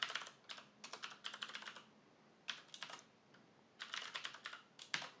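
Fingers type a query on a computer keyboard in quick clustered bursts of crisp clicks with short pauses between them, close and clear with no talking.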